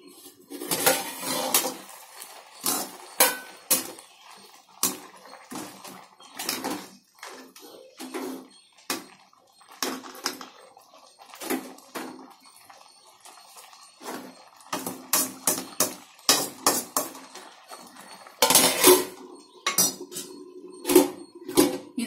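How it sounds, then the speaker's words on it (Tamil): Cooked lentil dal being mashed in a metal pot, with repeated clattering knocks and scrapes of utensil on metal in irregular bursts, close and fairly loud, without talk. "நான் அதுக்குள்ளே போய் அந்த பருப்பை கடைஞ்சிட்டு வந்துடுறேன்."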